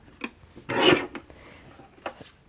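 A paper trimmer slices card for camping-themed scrapbook photo mats, making a brief scraping rasp with a louder central stroke and a few light taps around it, close and alone.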